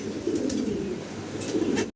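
Fancy pigeons coo nearby in low, rolling, repeated calls, steady and fairly loud with no talking.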